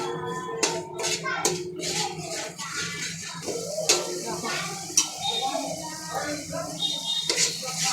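Chili powder and homemade masala being stirred and mixed for a crab curry, with repeated spoon scrapes and taps against a pan in an irregular rhythm, fairly close and moderately loud.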